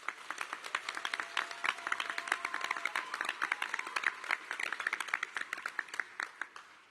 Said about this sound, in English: Let's give our guests a round of applause.